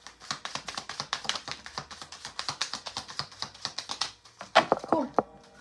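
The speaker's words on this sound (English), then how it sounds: "This will be the last shuffle." Tarot cards shuffled in a steady run of quick, crisp riffling taps, close and fairly soft, with a slightly heavier flurry of card slaps toward the end.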